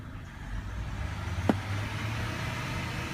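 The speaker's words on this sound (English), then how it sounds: "You can hear the car, me revving the engine" Engine of a BMW 7 Series or 3 Series with a failing alternator runs steadily and swells in a few soft revs, heard close, with a sharp click midway and no talking.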